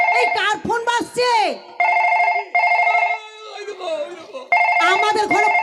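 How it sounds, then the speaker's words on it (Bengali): A phone rings with a repeating electronic tone in short bursts, loud and close, while voices chatter over and between the rings. "এই কার ফোন বাজছে"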